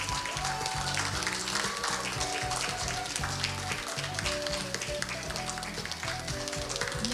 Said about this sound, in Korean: 그동안 고생하신 우리 박석재 박사님께 끊임없는 응원의 박수를 부탁드리겠습니다.